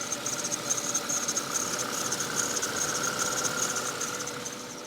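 A long-abandoned VW Phaeton W12 engine idles smoothly and steadily, with a constant hum, a high whine and faint pulley noises, close up and with no talk.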